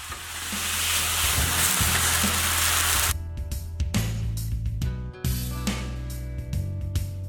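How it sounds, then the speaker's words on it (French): Beef skirt steak sears in a tablespoon of duck fat in a very hot pan, a loud steady sizzle for about three seconds before it turns choppier, broken by clinks and stirring noises. "cuit dans une poêle bien chaude avec une cuillère à soupe de graisse de canard"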